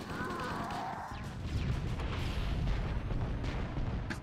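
Frag grenade blasts in the video game Halo, heavy low rumbling booms filling the clip with dense crackling debris, fairly loud and continuous after a brief quieter opening.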